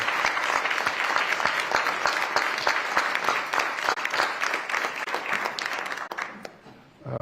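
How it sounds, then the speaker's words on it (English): Applause from people at a Village of Dolton board meeting honouring the village employees, a lively mix of crisp individual claps over a dense crowd patter, fading near the end before a final burst. "ask everybody to give a round of applause to the employees for the Village of Dolton"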